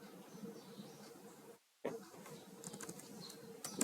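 Computer keys are tapped at a desk while git commands are entered, a run of light clicks that breaks off briefly, then resumes as quicker, sharper clatter near the end.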